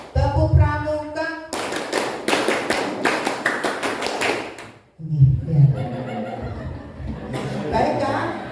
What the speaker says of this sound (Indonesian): Tepuk tunggal, tepuk ganda, tepuk pramuka.